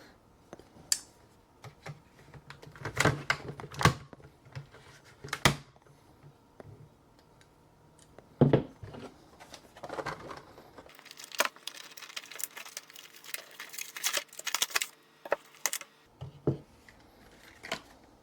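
Kitchen knives, an 8-inch chef's knife and a 4-inch paring knife, are unpacked from their packaging at a table with scattered crinkles, clicks and taps of plastic and cardboard, then a longer stretch of rustling handling.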